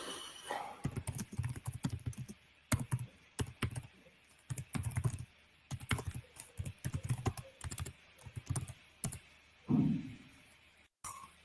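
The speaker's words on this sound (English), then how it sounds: "Crap, it's English keyboard." Typing on a computer keyboard with an English layout, heard as bursts of quick, close key clicks with short pauses between runs, no speech.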